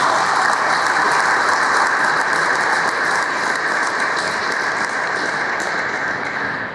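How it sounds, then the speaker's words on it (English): Dense, sustained applause from a large audience at a political summit hall, loud and continuous throughout, fading slightly at the end. "please give a great round of applause to Santiago Abascal."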